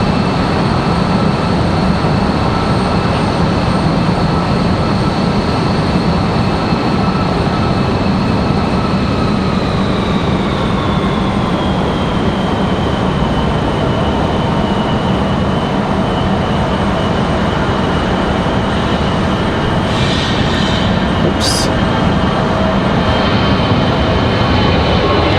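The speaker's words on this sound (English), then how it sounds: "American A320 up and out of here" American Airlines Airbus A320 taking off from Raleigh-Durham International, a sustained loud jet roar with a whining engine tone that slowly drops in pitch as the aircraft climbs away.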